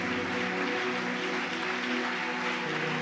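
A church congregation applauds, a dense, steady wash of clapping from many hands, held at an even level throughout.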